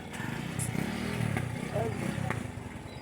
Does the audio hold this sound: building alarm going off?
no